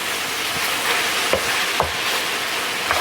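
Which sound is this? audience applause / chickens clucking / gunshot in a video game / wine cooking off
wine cooking off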